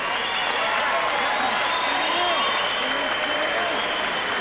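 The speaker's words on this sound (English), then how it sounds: "may we have a nice round of applause for both of these fighters" Arena crowd applauding both boxers after a professional fight ends in a ninth-round TKO, a steady dense wash of clapping and crowd noise throughout with no clear pauses.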